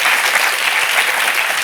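Studio audience on a French television talk show breaks into dense, loud applause, a continuous wash of many hands clapping with no voices on top.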